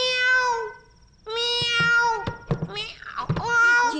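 A cat gives three drawn-out, plaintive meows, close and clear, in an indoor Telugu movie scene, with a few light clicks and knocks between the calls.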